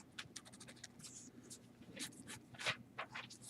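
A pen sketching a graph on paper, with faint, close scratchy strokes in short irregular bursts and brief pauses between them.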